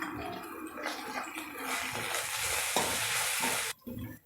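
Chopped mint frying and being stirred in a pan for buttermilk curry, a close, busy sizzle with scraping strokes of the spoon, ending in a brief pause and a couple of soft knocks.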